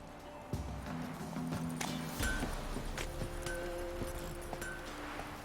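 Geralt's horse Roach running in The Witcher 3, a continuous patter of hoofbeats over a steady game ambience with no talking.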